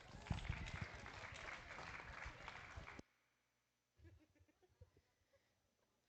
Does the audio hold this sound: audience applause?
yes